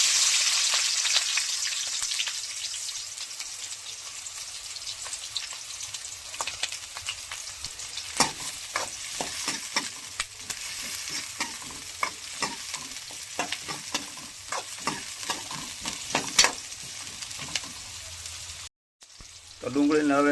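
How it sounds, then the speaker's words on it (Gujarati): Chopped onions fry in hot oil for an aloo bhindi dish, giving a constant close sizzle broken by repeated scraping stirs of a spoon in the pan; a brief dropout comes near the end. "તો ડુંગળીને હવે તેલમાં ફ્રાય કરી લઈશું, થોડીક લાલ થઈ જાય ને ત્યાં સુધી."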